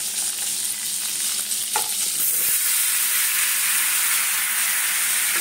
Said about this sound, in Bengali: এই তেলেই এঁচোড়টা দিয়ে দেবো।